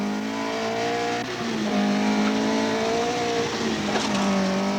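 A 1982 Team Datsun Canada rally car drives steadily with a loud, continuous engine drone and shifting pitch, with slight tire noise and no voices.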